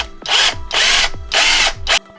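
A power drill bores a hole in four strong bursts, each a loud high whine that starts and stops cleanly, with short pauses between them.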